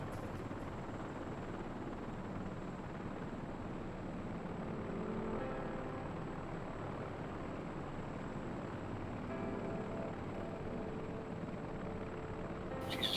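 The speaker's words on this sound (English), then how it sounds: "choppers going everywhere" Helicopters fly overhead, their rotors and engines making a steady, fairly faint droning hum that holds evenly throughout with no voices.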